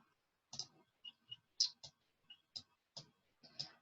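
A computer mouse gives about nine sharp, separate clicks at irregular intervals, close and clear against a silent background.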